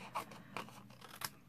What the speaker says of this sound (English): So what I'm going to do now is I'm just going to cut that out.